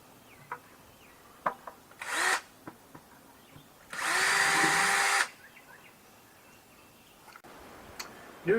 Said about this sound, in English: Take a 5-gallon bucket and drill an 1/8-inch diameter hole near the bottom.